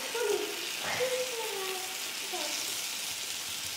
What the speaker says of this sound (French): ma poêle est bien chaude, je vais pouvoir cuire les galettes